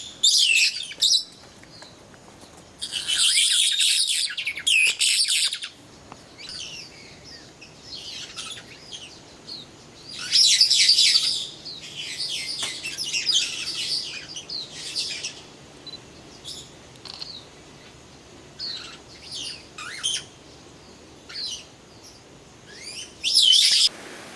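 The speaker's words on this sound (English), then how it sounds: "These are Senegal parrots." Senegal parrots in a zoo aviary give loud, shrill screeching calls in repeated bursts of a few seconds each, with quieter chatter between them.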